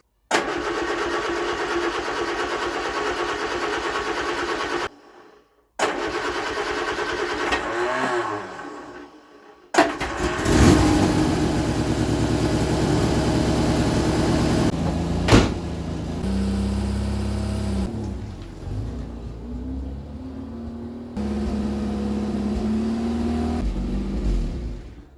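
A 1975 Vauxhall Viva's mechanical engine cranks over in bursts with short pauses, then catches and runs, revving up and settling to a steady idle up close, with no talk.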